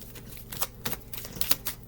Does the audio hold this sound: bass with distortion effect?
no